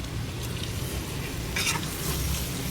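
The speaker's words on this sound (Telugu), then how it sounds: "మటన్ వేగిపోయింది, ఆయిల్ మంచిగా పైకి వస్తుంది కదా" Mutton sizzles steadily in hot oil in a pan, a close, continuous crackling fry with a brief scrape of stirring partway through.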